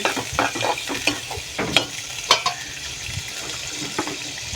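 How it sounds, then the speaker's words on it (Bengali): A spoon stirs yogurt into biryani in a cooking pot, giving scattered scraping and wet clinking strokes over a soft background sizzle, close and moderately quiet. "দধিটা দেওয়ার পরে ভালোভাবে নেড়ে ছেড়ে"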